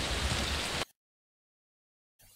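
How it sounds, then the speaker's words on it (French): Steady rain falls in a dense, even hiss for under a second, then cuts off abruptly into silence. "Il se mit à pleuvoir lui aussi"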